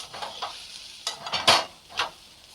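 Okra bhaji with green masala being stirred in a pan: several short, close scraping and clinking strokes of a spoon against the pan over a faint sizzle.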